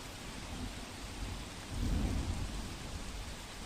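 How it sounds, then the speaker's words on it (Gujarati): Steady heavy rain pours down while a deep roll of thunder swells midway through and rumbles on. "જે રીતે વરસાદ પડતો હોય ગાજવીજ સાથે"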